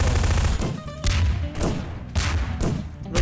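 Rapid machine gun bursts in Garry's Mod, loud continuous rattling strings of shots broken by short pauses, close and dominant with no voices.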